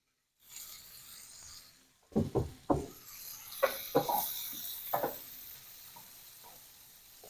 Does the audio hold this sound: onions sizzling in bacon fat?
yes